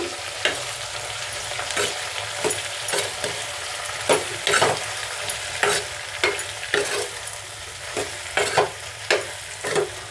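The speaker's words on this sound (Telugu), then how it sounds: "చిటికెడు పసుపు వేసుకున్నాము కదా ఇప్పుడు బాగా మనము కలుపుకుందాము" A spoon stirs turmeric through lentil curry cooking in a pot, with repeated scraping strokes at a steady rhythm over a low bubbling simmer, close and clear without any talking.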